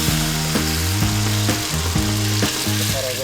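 Curry spice paste for a Sundanese dish sizzles loudly in a pan, a constant bright frying hiss punctuated by repeated clacking stirs of a utensil against the pan.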